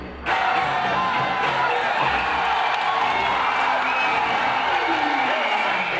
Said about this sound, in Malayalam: പൂവിട്ടും പാലൊഴിച്ചും കൂകി വിളിച്ചും ആവേശത്തോടെ ആരാധകർ സീറ്റ് പിടിച്ചു